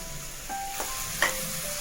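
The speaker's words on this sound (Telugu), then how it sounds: "ఇది తడి లేకుండా బాగా ఫ్రై చేసుకుందామండి ఇందులోనే కొబ్బరి కూడా వేసుకుందామండి" Grated coconut and chana dal dry-frying in a pan, a soft steady sizzle with a few light stirring clicks and scrapes and one sharper tap near the end, with no voices.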